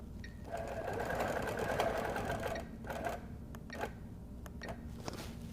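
A sewing machine stitches in the ditch on a Halloween vest, running in a loud, steady burst and then in a few short bursts and single stitches, close up with no talking.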